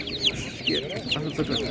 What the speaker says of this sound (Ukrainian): є малесенькі такі курчатка на ринку, бомбезні